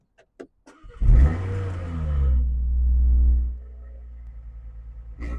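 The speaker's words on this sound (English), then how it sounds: "I'll give it some revs, start it up for you, make sure you can hear everything" A 2024 Audi RS3 engine cranks and fires after a few brief clicks, flares into a loud, rising rev, then holds a strong rumble before dropping back to a steady idle.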